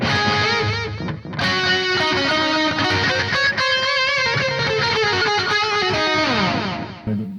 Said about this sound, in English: nice short slapback delay